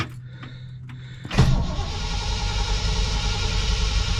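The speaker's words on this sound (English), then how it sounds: "I think I'm going to crank it to get a little fuel in the carburetor first, so I don't run that accelerator pump in a dry bore." A 1959 Chevrolet Bel Air with a carbureted engine is cranked by the starter for about a second, then catches and starts. It settles into a loud, rumbling idle close by, with no voices.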